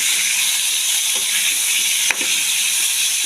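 A fish head fries in hot oil with ginger for a mung dal dish, giving a steady, close sizzle and hiss throughout, broken by one sharp pop or clack partway through.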